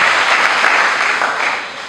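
A church congregation bursts into sustained applause in praise of the Lord, a dense wash of many hands clapping together that holds steady, then slowly thins toward the end.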